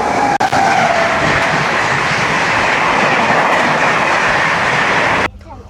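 The Howrah-Ahmedabad Express rushes past a level crossing nearby, a loud, steady roar of wheels and carriages with rail clatter filling the whole stretch before it cuts off abruptly near the end.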